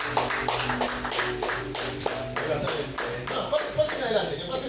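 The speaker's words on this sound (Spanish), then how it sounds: "Den un aplauso fuerte a Jesús" A church congregation applauding together in a steady stream of loud, close claps, with voices and music underneath.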